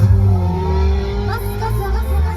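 Car engine revving and accelerating with a steady low mid-range drone, loud and close, while music with singing plays over it and a few short voices cut in.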